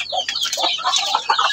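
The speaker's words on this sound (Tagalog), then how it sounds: "magpapakain tayo sa ating mga alagang manok" Pet chickens cluck busily at close range while being fed leftover rice mixed with commercial feed, a dense run of overlapping clucks filling the whole stretch with no talking.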